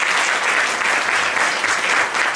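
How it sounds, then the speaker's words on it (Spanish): A seated audience claps steadily after a panel discussion, a dense, even wash of applause from many hands filling the whole moment. "Por favor, un aplauso."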